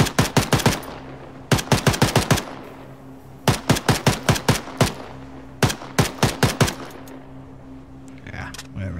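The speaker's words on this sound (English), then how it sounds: "Kind of far away to be shooting at him." Automatic gunfire in the video game Arma 3 comes in several rapid bursts of sharp, loud shots separated by short pauses, with a faint hum underneath.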